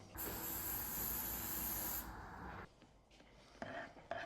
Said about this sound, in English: I'm going to spray a little bit of mold release